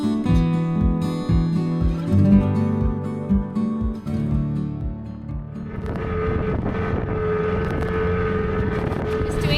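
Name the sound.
dinghy motor boat ride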